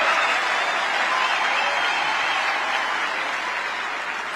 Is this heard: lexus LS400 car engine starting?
no